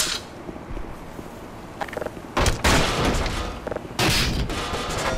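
Gunshots in the video game Black Mesa come as a few sharp, loud bangs spaced irregularly over a few seconds, with quieter mechanical noise in between.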